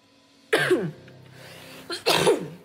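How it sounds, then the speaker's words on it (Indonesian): Two harsh coughs, close and fairly loud, separated by a brief pause with faint background noise. "Aduh, batuk."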